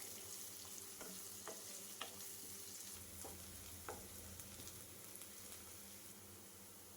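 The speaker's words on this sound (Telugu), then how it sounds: "పచ్చిమిర్చి వేసి ఫ్రై చేసుకోవాలి." Onions and green chilies frying in hot oil with cumin in a kadai, a steady close sizzle throughout with a few sharp clicks of a spoon stirring against the pan, no voices.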